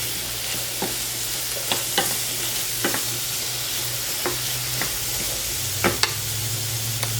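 Green peppers sizzle in a hot pan, a loud, steady frying hiss with a low hum underneath and occasional sharp clicks of stirring, close-up and without speech.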